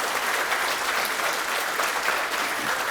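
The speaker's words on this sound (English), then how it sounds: "a big round of applause for Javagal Srinath" A conference audience gives cricketer Javagal Srinath a round of applause, a thick, steady wash of clapping that stays loud and even throughout.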